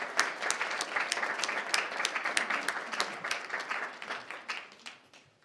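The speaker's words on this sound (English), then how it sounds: "we want to give you a big round of applause" Audience at a board of education meeting gives a round of applause, steady dense clapping with sharp individual claps, thinning toward the end.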